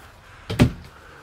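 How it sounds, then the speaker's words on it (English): A pocket door slides in a 2021 Coachman Adrenaline 21LT toy hauler trailer, a single short close rumble and knock with faint room noise around it. "Pocket doors here and there."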